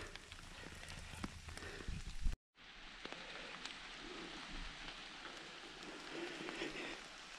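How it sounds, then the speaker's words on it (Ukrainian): Rain falls in a Carpathian forest as a faint, steady patter and hiss, interrupted by a brief dropout before the soft rainfall resumes. "Дощ паде."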